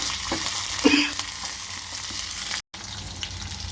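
Curry leaves dropped into hot oil for a curd rice tempering crackle and sizzle steadily up close, with a brief louder spit as they hit the pan.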